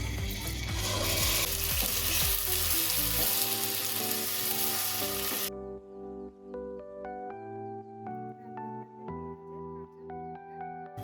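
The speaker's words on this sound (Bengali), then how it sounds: "তেল আমার খুব ভালোভাবে গরম হয়ে গেছে। এবার পেঁয়াজ বাটাটা দিয়ে দেব।" Onion paste hits hot oil with bay leaves, cinnamon and cardamom for a Bengali prawn malai curry, making a loud, dense sizzle for about five seconds before it cuts off and music takes over.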